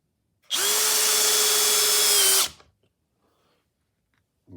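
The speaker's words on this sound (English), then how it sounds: "We have a nice scrap 2x4 here. Start off with a drywall screw." A Bosch GSB18V-490B12 hammer drill drives a drywall screw into a scrap 2x4, a loud, steady motor whir lasting about two seconds that cuts off abruptly, with no talk over it.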